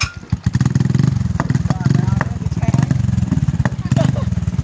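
A motocross motorcycle engine runs with a steady, throbbing low rumble that pulses in rapid beats throughout, close and loud, while a person talks over it.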